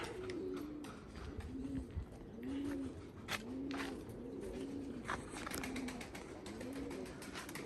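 Soft, low pigeon coos repeat in a steady rhythm, several rounded calls from a Tempo breed pigeon over a constant outdoor background hiss with occasional faint clicks.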